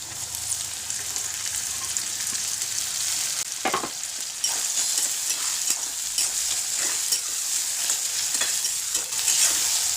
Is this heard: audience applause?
no